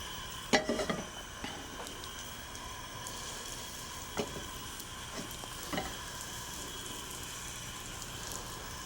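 Impanata sautéing in hot oil, with a steady background sizzle and a few scattered clinks and taps of a utensil or pan, loudest near the start and sparser afterward.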